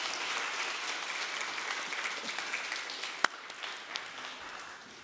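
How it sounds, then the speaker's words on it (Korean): A Korean church congregation applauds steadily during a Sunday service, a soft, even wash of many hands clapping that slowly fades toward the end. "우리 한번 축복의 박수 해주시기 바랍니다."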